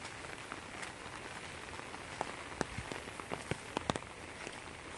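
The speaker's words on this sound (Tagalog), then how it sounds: "Paulan-ulan raman ni siya eh." Light rain patters steadily on outdoor surfaces, with scattered louder drops hitting nearby in an even, continuous wash.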